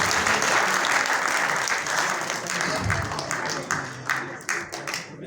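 Steady applause from the audience at a memorial gathering for an artist, dense clapping that tapers off toward the end, with a voice faintly underneath.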